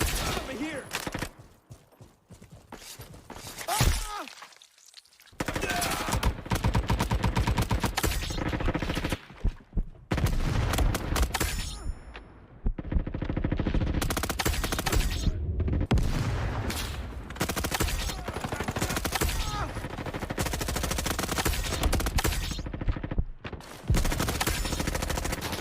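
Rapid, dense gunfire from Roblox Frontlines, a shooter video game, with sustained automatic bursts and loud booms filling most of the stretch, broken by a few brief gaps, with a voice talking under the shooting.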